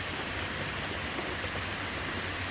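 Steady rain falls as an even, continuous hiss with no breaks, and no one speaks.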